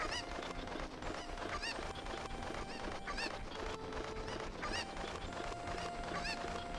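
Chickens cluck and squawk in repeated bursts in the Kakariko Village chicken pen of the video game Zelda Ocarina of Time, heard alongside steady game background music with no talking.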